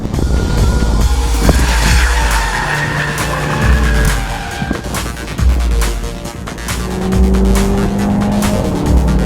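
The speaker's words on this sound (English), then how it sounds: "The exhaust is nicely throaty." An Audi TT's engine roars continuously on the Buddh International Circuit race track, its throaty exhaust rising and falling through instant gear changes at close range, with brief tire noise.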